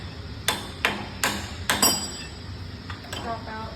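A hammer taps a drill press chuck loose, with four sharp metallic strikes in quick succession followed by two fainter taps, close by in a workshop.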